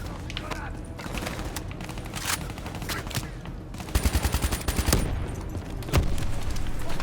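Weapon fire in the video game Call of Duty Black Ops 3, with bursts of rapid shots in the second half over a busy game soundscape, while players talk over the action.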